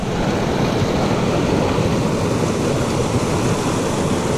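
Water rushes steadily through a small mountain creek near a waterfall at the outlet of Eagle Lake in the Desolation Wilderness, a dense, continuous roar that stays loud and even throughout with no voices.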